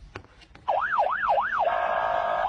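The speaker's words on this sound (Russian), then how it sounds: "Вась, это что, сигнализация такая?" A bicycle anti-theft alarm sounds close and loud after a few faint taps, first as a whooping up-and-down siren tone and then as a steady held electronic wail.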